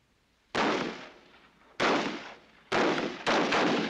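Rifles firing in volleys on a shooting range: four sharp, loud cracks, each trailing off in a short echoing decay, with no talk.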